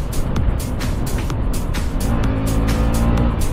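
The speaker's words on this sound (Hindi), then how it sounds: "मेरे थ्रोटल से ही अंदाजा लगा लो कि ये बगा क्या रहा है" A motorcycle engine revs hard under the throttle, loud and close, with a dense, rough roar and repeated surges of acceleration throughout.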